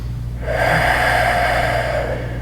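Deep, steady exhale during a yoga bridge stretch, a long breathy rush lasting about two seconds, close and fairly loud over a low hum.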